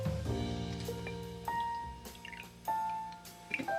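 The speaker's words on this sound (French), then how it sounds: "Donc 3 centilitres de gin" Gin poured into a bar measure for a Negroni, heard as short, quiet liquid trickles and drips in uneven bursts, close by, over faint sustained tones in the background.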